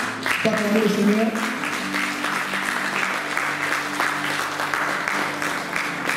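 A church congregation applauds steadily for several seconds, a dense, sustained clapping with a sung or spoken voice over it at the start.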